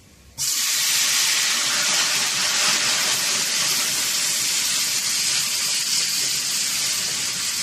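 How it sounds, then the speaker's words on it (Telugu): Ash gourd sambar is poured into hot tempering, and a loud, rushing sizzling hiss bursts out and then holds steady and strong, close up. "తాలింపు వేగిపోయింది కదా, సాంబార్ తాలింపులో పోసేద్దాం."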